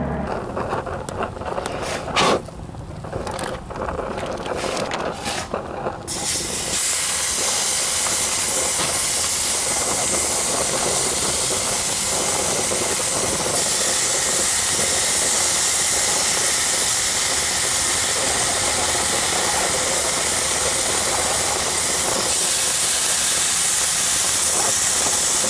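A gas burner with unreliable igniters catches after a few sharp clicks, then a loud, steady rushing hiss of flame runs unbroken close by.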